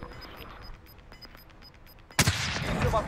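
A sudden burst of gunfire in a shooting video game breaks a quiet stretch of faint clicks, then rolling loud shots and blasts continue to the end.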